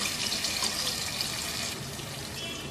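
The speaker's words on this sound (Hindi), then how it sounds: "1 कप पानी का शामिल कर देना है।" A cup of water poured into a pot of chicken handi with chopped tomatoes, a steady close splashing and gushing pour lasting a few seconds without any talk.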